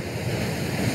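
Sea waves washing onto the shore, a steady moderate surf roar with wind across the microphone, no speech over it.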